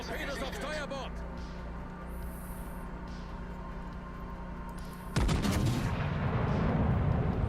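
Naval gunfire in the World of Warships video game, a steady dense barrage rumbling under continuous background effects, with a louder, fuller burst of shots kicking in near the end.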